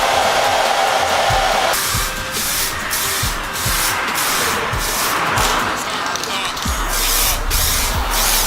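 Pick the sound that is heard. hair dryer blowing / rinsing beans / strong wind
hair dryer blowing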